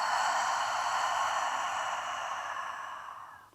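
A long, steady exhale during a restorative yoga session, a soft breathy rush of air that holds for about three seconds and then fades out, close and alone with no talking.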